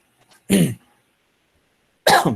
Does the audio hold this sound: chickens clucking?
no